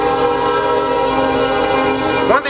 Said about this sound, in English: Train passing.